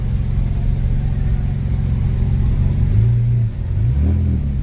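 BMW 335i with the twin-turbo N54 engine and six-speed manual, driven at night along the Las Vegas Strip: a steady loud engine rumble that climbs in pitch as it accelerates, with a brief dip near the end before pulling again.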